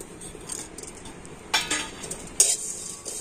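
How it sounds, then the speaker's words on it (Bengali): Spices are stirred and fried in a kadai: a soft background sizzle with sharp metal scrapes and clinks of a spoon against the pan, two loud strokes standing out, no talking. "তো মশলাগুলো দিয়ে একটু হালকা করে ভেজে নেব"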